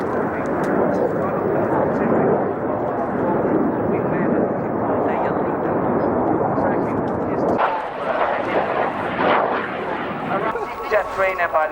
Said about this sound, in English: Jet trainer by Leonardo aircraft, fully manufactured and maintained in Italy and also used as a flying tool of the Italian Air Force